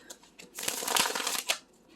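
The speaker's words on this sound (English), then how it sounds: "One more shuffle." A deck of pick-a-card tarot cards being shuffled gives a close, crisp riffling burst lasting about a second, framed by a few soft taps and card flicks in a quiet room.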